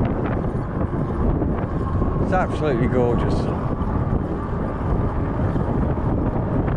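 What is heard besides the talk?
wind blowing into the microphone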